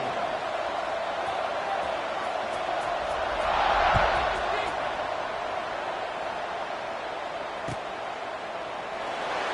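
In a college football video game, the stadium crowd roars at kickoff between Texas Tech and Arizona State. It is a steady wash of distant cheering that swells briefly about midway, under a commentator's voice.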